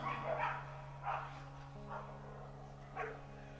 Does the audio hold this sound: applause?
no